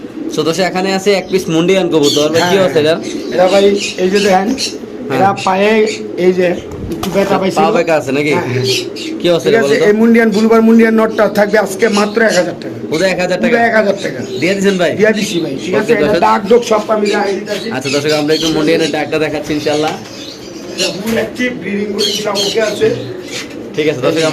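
King pigeons coo at a busy pigeon market, their soft calls running under nearly continuous loud talking from people nearby.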